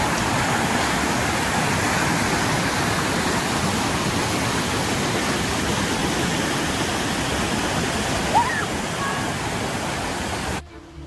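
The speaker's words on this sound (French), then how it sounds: "le débit d'eau est vraiment fortement augmenté" Swollen stream rushing after a rain shower along a trail in Saguenay, Quebec, a loud, steady broadband wash of water that continues unbroken until it cuts off near the end, with faint talk beneath.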